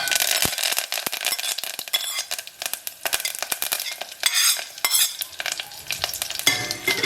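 Chilies with their seeds removed and curry leaves hit hot oil for a Bangalore-style rasam, giving a loud, steady sizzle and spatter close by with a few scraping stirs, and no voices.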